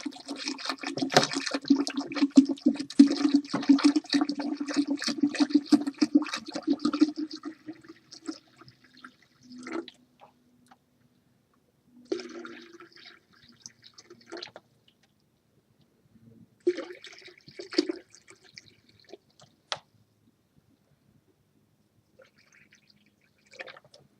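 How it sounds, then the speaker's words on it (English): Water pours from a plastic gallon jug into a container for iced coffee, a steady gurgling stream for several seconds, then a few short splashy pours separated by silence, close and clear. "I'm going to use about half of that and just pour it right in here."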